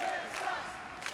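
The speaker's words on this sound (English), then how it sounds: "Crowd chanting, Snake Man sucks." Wrestling arena crowd chanting in unison at a masked wrestler, a broad steady roar of many voices with rhythmic swells, continuous and moderately loud.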